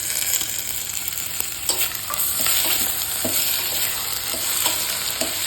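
Tomatoes fry in a hot pan for Naati-style veg biryani, a continuous loud sizzle broken by occasional scraping stirs and clinks, with no talking.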